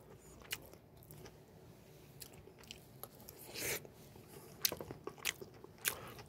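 Crunchy biting and chewing of mushrooms in a doenjang (Korean soybean paste) sauce rice bowl, close and quiet, with several sharp bites and soft mastication scattered through.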